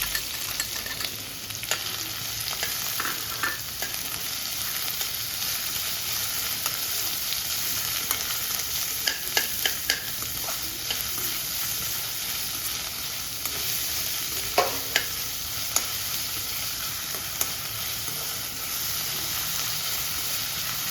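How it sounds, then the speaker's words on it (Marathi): Chopped onion frying in hot oil for paneer bhurji, a steady crackling sizzle that runs unbroken for about twenty seconds, with occasional clicks and scrapes of stirring rising briefly above it. "कांदा टाकूयात"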